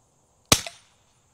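A single sharp shot from a 3D printed CO2-powered Nerf shotgun pistol, a loud close crack with a brief gas hiss trailing off, then silence.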